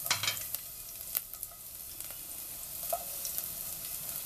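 Garlic fries in a spoonful of lard in a pan with a steady, close sizzle, broken by a few scraping stirs and light pops.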